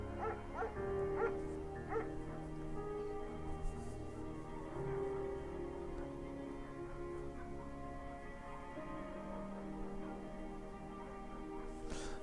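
A shepherd dog in the video game Firewatch gives several short barks and yips early on, moderately close, over a quiet background of game music.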